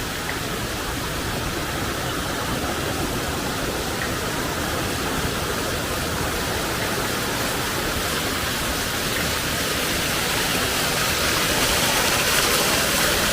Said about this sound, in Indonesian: Malam hari semakin kencang ya airnya.